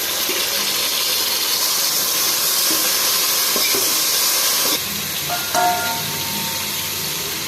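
Tomato pieces go into hot oil in a pan for chicken biryani, raising a loud, continuous hissing sizzle that softens partway through, with a few light clinks of a utensil near the end.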